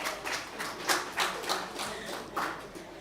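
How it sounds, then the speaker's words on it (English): Conference attendees already seated clap in a thin, scattered round, distinct individual claps rising and falling at a moderate distance, fairly quiet and uneven rather than a full ovation. "please give yourselves a round of applause."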